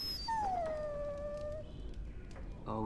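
A dog in a video game gives a long, drawn-out whimpering howl that slides downward in pitch, loud and close, followed by fainter whines and game noises.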